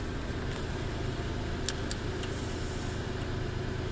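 A Toyota four-wheel-drive vehicle with its engine on and the 4WD unit running underneath gives a steady, close, low idling hum, with a few faint high ticks.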